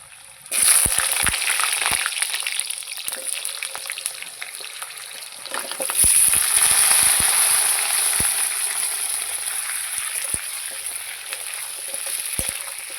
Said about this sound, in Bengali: তেল গরম হয়ে গেছে এবার আমি আলুটা দিয়ে দেবো মাংসের আলুগুলো ভালো করে লাল লাল করে ভেজে নেব